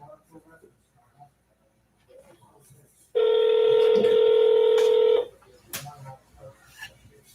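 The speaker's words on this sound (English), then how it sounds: "I'm dialing the next number." A telephone number is dialed during a real-estate prospecting call: about two seconds of loud, steady tone stacked with harmonics, standing alone between stretches of quiet speech before and after.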